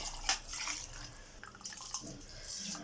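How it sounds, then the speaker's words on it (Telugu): Water poured into a pot of vegetable khichdi makes splashy, dripping bursts over a few seconds, fairly close, with faint kitchen background noise. "ఇప్పుడు దీనికి తగినంత నీళ్ళు పోసుకుందామండి"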